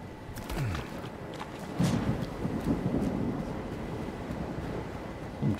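Rumbling thunder rolls through a lightning storm in the video game Stalker 2, a dense, steady roar with a louder swell around the middle that carries on to the end, heard alone without talk.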